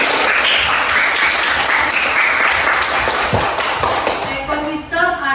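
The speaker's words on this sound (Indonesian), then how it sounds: "Tepuk tangan bersih" Classroom students clap together in a steady burst of applause lasting several seconds, with voices chattering over it and fading into a short spoken phrase at the end.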